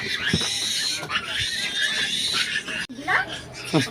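Close pig grunts and snorts from a boar and a sow, several short bursts, mixed with people talking and chuckling nearby.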